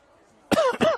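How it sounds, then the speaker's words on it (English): Two harsh coughs in quick succession, close and loud, after a moment of quiet, during a women's football match broadcast. "there's that cough"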